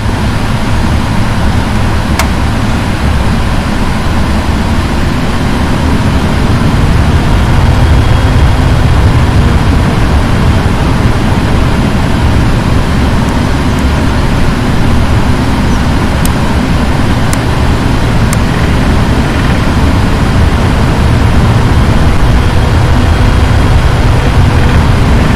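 Boeing 777F freighter engines in the PMDG flight simulator, a loud, steady low roar and whine that holds continuously without change.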